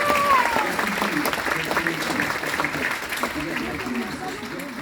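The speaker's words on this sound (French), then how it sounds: "Applaudissons pour Louis, s'il vous plaît." Applause from an audience at a stage show rises around a performer named Louis, a continuous patter of many hands with voices and cheers mixed in over it.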